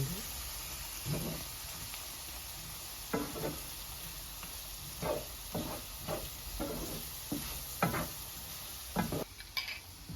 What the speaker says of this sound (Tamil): வெந்தயம் உள்ளி இஞ்சி எல்லாம் சேர்ந்து மிக்ஸ் பண்ணுறேன்